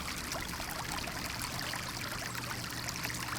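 A small creek runs through a quiet wooded RV park, giving a steady, close rush and trickle of flowing water that holds unbroken throughout with no voices.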